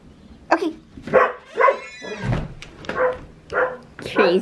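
Excited dogs let outside at home bark in a run of five or six sharp barks at an even pace, close and loud.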